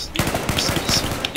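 Rapid automatic gunfire in the video game Battlefield, a dense rattling burst of shots filling over a second, loud and close, with faint game sounds behind.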